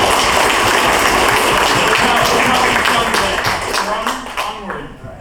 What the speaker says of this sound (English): Give your neighbor a big round of applause